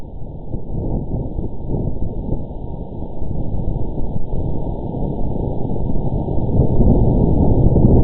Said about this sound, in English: they also succeeded in recording the sound of wind blowing on Mars